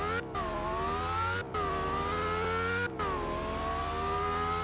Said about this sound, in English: this car sounds, they almost nailed it on the acceleration sound